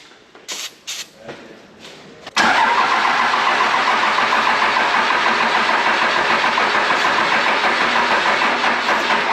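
A Cummins diesel engine in a truck bought from an impound, given a spray of starting fluid, cranks briefly in a few uneven bursts, then catches and roars into a loud, steady, rumbling run close by.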